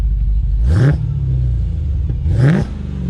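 A Hellcat-converted Chrysler 300 engine revs hard twice as the car drives by, each blip a loud rising roar about a second long, separated by a steady throaty idle rumble.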